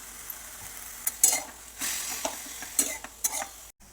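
Fenugreek leaves are stirred with salt in a pan for a peanut methi dish, with a soft sizzle under intermittent spoon scrapes and clinks against the metal, fairly quiet and close.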